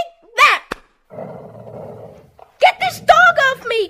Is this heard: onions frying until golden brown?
no